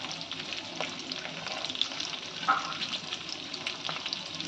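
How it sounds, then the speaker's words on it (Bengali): Twelve green chillies and chopped garlic sizzle in four tablespoons of hot oil for a restaurant-style chilli chicken, a quiet, steady crackle and hiss with a few soft stirring clinks, no talking. "এখানে 4 টেবিল স্পুন তেলের মধ্যে 12টা কাঁচা লঙ্কা দিচ্ছি। এখানে দিয়ে দিচ্ছি 50 গ্রাম রসুন কুচি।"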